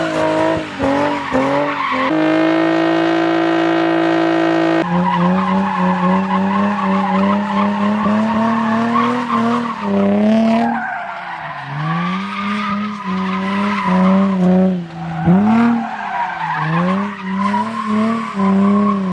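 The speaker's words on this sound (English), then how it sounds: "when I go into third gear under heavy acceleration, it does squawk the tires now" Car tires squeal and squawk under hard acceleration into third gear on a hot day, the engine note rising and falling loudly through repeated pulls with sharp tonal chirps over the roar.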